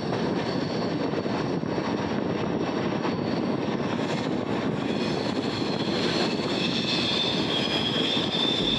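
An express train on the Chennai to Mysuru route runs at speed, a loud, continuous rumble with a steady roar of wheels and carriage noise throughout.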